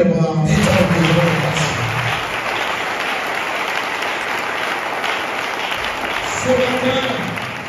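A church congregation applauds through a sermon, a broad, steady wash of clapping that starts with a brief spoken phrase and holds loud and even throughout.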